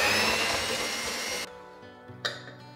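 An electric mixer whirs loudly and steadily through madeleine-style autumn cake batter as the first 100 g of flour is worked in, then cuts off abruptly, followed by a faint clink.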